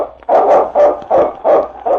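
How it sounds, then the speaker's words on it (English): Lead dog Yukon King barking in an old radio drama, five loud, evenly spaced bark-like bursts close up with no talk. "It's Yukon King, swiftest and strongest lead dog of the Northwest"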